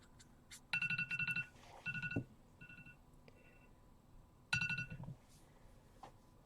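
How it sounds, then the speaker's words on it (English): Electronic phone tones, two bursts of rapid beeping tone sequences with a gap between, fairly quiet and heard alone without talk. "Let me grab my phone,"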